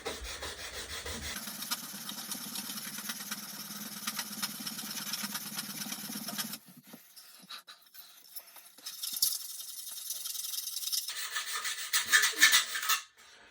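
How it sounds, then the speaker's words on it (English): Someone sands a Meister F4U Corsair model airplane build by hand with 80-grit sandpaper. The rasping strokes are close and steady, pause briefly, then start again in shorter bursts. "I think that's 80 grit sandpaper."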